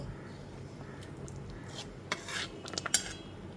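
A spoon stirs salt and sugar into a thin fish curry in a pot, with soft scraping and a few light metallic clinks against the pan over a steady low background.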